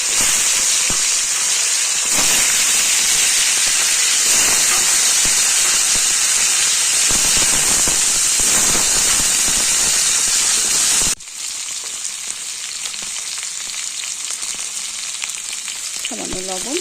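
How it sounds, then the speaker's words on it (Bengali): Boiled potatoes frying in a pan with turmeric and salt, a loud dense sizzle and hiss with scattered crackles, close up, dropping to a quieter, softer sizzle partway through; no voices. "হলুদ লবণ দিয়ে ভেজে তুলব।"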